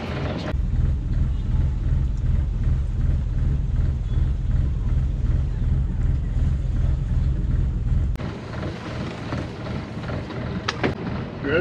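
A sailboat's engine, heading north toward Union Island and Tobago Cays, runs in gear with a steady low rumbling drone under wind buffeting. The rumble drops away abruptly near the end, leaving lighter wind and water noise.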